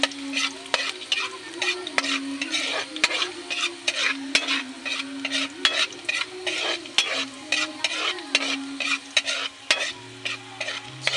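Chicken neck frying in a pan with garlic, stirred repeatedly: a steady sizzle runs throughout, broken by frequent scraping and clinking strokes of a utensil against the pan, close and fairly loud, with no talking.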